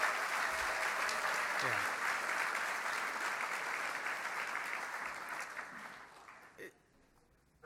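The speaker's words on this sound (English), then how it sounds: "So if you can show me your appreciation for them in terms of your applause" Conference lunch audience applauds in a large room, steady crowd clapping that fades out toward the end, with a brief voice at the close.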